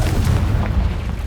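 A Confringo fire spell bursts in Hogwarts Legacy, a deep rumbling boom with a low, sustained roar that fills the short moment at steady loudness, with no talking.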